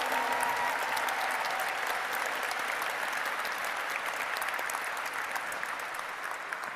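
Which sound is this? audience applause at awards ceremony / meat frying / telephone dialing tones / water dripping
audience applause at awards ceremony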